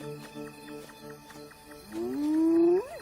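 Male lion roaring at night on the African savanna, a series of rhythmic grunting calls building to a deep, drawn-out roar that swells louder toward the end.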